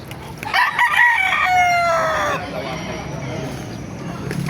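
Roosters crow loudly and close at a Philippine chicken market in Baliuag, with overlapping harmonic calls and some clucking over crowd noise, then a busy background murmur.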